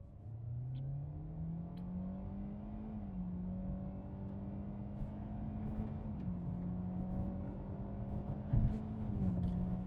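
A 2025 Kia K4 EX pulling away from a full stop in normal mode, its engine note rising steadily through the gears with brief dips at each shift, heard from inside the cabin.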